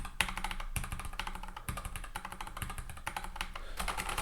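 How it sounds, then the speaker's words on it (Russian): Typing on a mechanical keyboard fitted with brown tactile switches, a quick, steady run of muted, close keystroke clacks with a few louder taps between them and no talking. "Вот эти вот коричневые переключатели, которые тактильные, они чем-то прикольные. У них звук более такой глухой."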